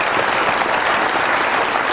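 An audience at a comedy show claps loudly and continuously, a dense, close wash of applause with no break.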